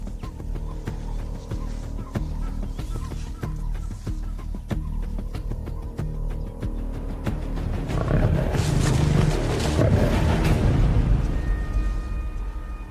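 Lions of the Chinzombo pride roaring in the bush, deep rumbling calls under a steady outdoor background that swell into a heavier, louder stretch toward the end.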